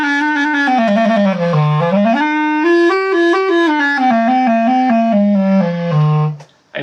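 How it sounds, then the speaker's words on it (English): A clarinet played by someone out of practice, holding a wavering melodic line with sliding pitch changes, close and loud, then cutting off abruptly at the end. "And it is this lovely piece of equipment right here, the clarinet."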